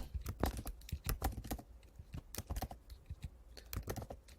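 Coordinates being entered on a calculator for a math problem: a quick, uneven run of crisp button clicks, close and fairly quiet, with no talking.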